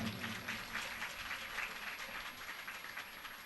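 Sustained crowd applause, dense and steady throughout, with a broad wash of clapping and no clear pauses.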